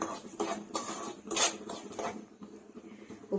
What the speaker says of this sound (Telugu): ఉప్మా రవ్వ 2 మినిట్స్ వేయించుకోండి, ఎక్కువ అవసరం లేదు